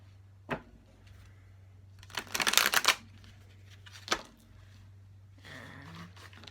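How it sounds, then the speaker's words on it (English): Oracle cards being shuffled by hand, a crisp riffle near the start, a longer rapid burst of flicking cards in the middle, then another snap and softer sliding, close and quiet over a low steady hum. "One more shuffle for good measure."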